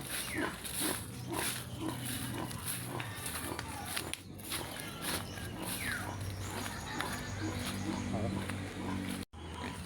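Pigs and birds call on a rural farm in a busy, continuous mix of grunts, squeals and chirps close by, while a person talks over the animal noise throughout.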